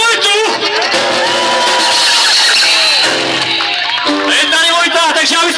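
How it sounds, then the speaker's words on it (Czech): Concert crowd at the Rock Dyje 2014 festival cheering, whooping and shouting for a performer named Vojta, loud and sustained throughout, with a dense wash of voices and some clapping. "Takže ještě jednou potlesk pro Vojtu"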